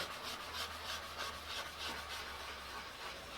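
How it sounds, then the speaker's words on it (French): Pumice rubbed in circles into a wooden surface to fill its pores makes a steady, rhythmic rasping scrub, close and fairly quiet, with no speech. "Donc on va faire pénétrer la ponce dans le bois jusqu'à remplir les pores du bois."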